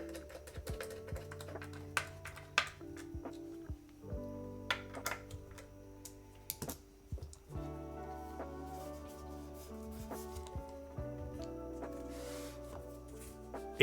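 Typing on a Mode Sonnet 75% mechanical keyboard: close, crisp keystrokes in irregular bursts, some sharper clacks standing out, with faint background music underneath.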